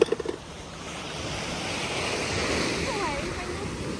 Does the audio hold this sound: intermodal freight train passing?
no